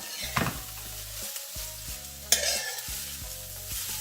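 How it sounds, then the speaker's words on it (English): Cabbage and carrots sauté in a hot pan for curry vegetable egg roll filling, a loud steady sizzle broken by repeated stirring scrapes and a couple of sharp utensil knocks. "When it's sauteed, you will see the sheen in the cabbage."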